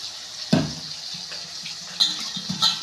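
Water runs and splashes steadily over chicken pieces being rinsed, with a sharp slosh near the start and a few louder splashes toward the end, close by.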